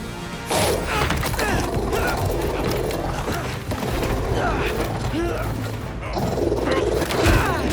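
A robot dog in Marvel's Spider-Man 2 barks and attacks amid metallic clanks and crashing impacts, loud and close, with voices talking over the combat.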